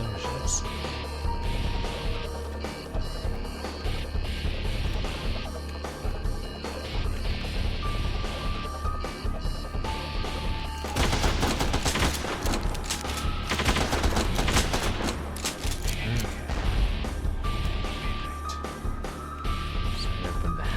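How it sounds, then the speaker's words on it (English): Explosions in an indie video game, dense rapid bursts of blasts and gunfire-like cracks under continuous game noise, growing heavier through the middle. "I keep hearing these explosions."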